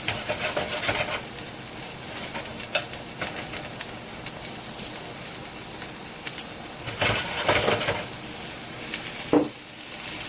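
Vegetables sizzle steadily in a hot pan for spicy veggies, a continuous frying hiss with brief stirring scrapes and bursts of steam, close and loud with no talking.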